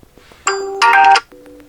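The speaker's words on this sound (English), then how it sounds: "tap on the song that you wish to set up, or selecting one of those system ringtones" A system alarm ringtone plays from an OPPO F19 phone as a short, bright chiming melody of sustained electronic tones, stepping up louder midway before dropping to a softer closing tone.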